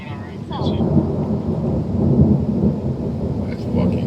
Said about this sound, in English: That was just a big crack of thunder right there.